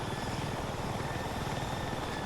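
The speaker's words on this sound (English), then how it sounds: "So you start the helicopter off, you're going to press up on the left stick to start ascending." A helicopter in Battlefield 6 roars with a steady, loud rotor thrum and engine whine, continuous and close throughout.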